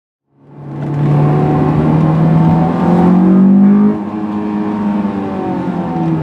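A Honda S2000 AP1 sports car engine starts up and revs hard, rising to a loud, climbing howl that holds near the top before dropping back to a steady, rumbling idle, close and with no talk.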